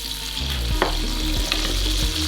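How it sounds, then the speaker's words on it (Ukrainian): Prunes fry loudly in clarified butter, a dense, close crackling sizzle with a few scraping stirs of a spoon through the pan and no talking. "Тож обсмажуємо його в топленому маслі"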